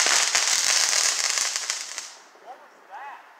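Fourth of July fireworks burst in a dense crackling flurry of sharp pops that thins out and fades, followed by faint voices talking nearby.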